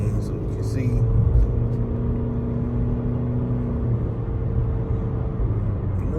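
Engine of a 2025 Honda HR-V EX-L small SUV accelerating, a steady droning rumble with a rising whine heard from inside the cabin, holding loud and even throughout.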